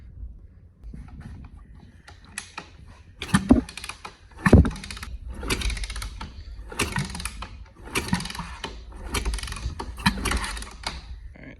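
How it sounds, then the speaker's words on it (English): Cam chain tensioner being released on a Honda CRF450x motorcycle engine that sat for ten years: a series of close, light mechanical clicks and ticks with a couple of sharper knocks, spread irregularly over several seconds. "now I can release my little tensioner"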